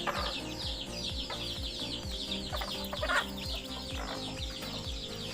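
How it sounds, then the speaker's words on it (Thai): Chickens and young chicks cluck and peep together in a pen on a Thai farm, a busy continuous chatter under steady low background rumble. "จะพามาดูลูกไก่นะครับที่เลี้ยงอยู่นะครับทั้งหมดเลย"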